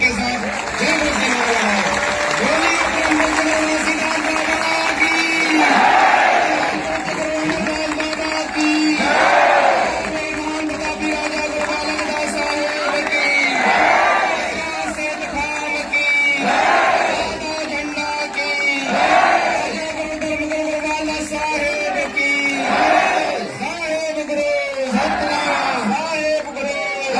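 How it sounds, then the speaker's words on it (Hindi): A large crowd at a saint's congregation gathering claps and shouts in repeated surging bursts, loud and close, over a continuous backdrop of amplified voices and music. "जोर ताली गड़ाहट के साथ जय बोलिए"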